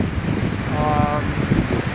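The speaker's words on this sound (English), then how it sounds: "I was really high up on the rocks and the waves were quite large and very impactful." Large ocean waves crash on the rocks at Nahant, heard from high above as a steady, loud roar of surf mixed with heavy wind buffeting the microphone.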